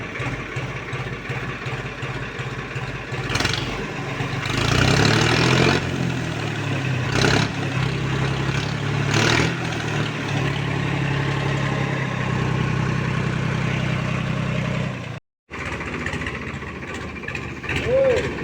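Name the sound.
Farmtrac tractor engine started and idling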